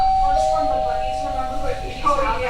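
Wyze video doorbell chime ringing indoors as a steady sustained tone, with people talking over it throughout.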